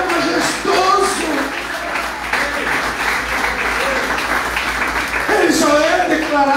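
A church congregation applauds steadily and loudly throughout, sustained clapping while a preacher's voice carries over it.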